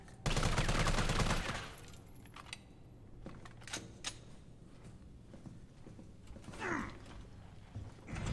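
Gunfire in the Resident Evil 3 Remake video game, Hardcore mode: a loud dense burst of rapid shots up front, then scattered quieter shots and impacts with mechanical clicks amid the game's ambience.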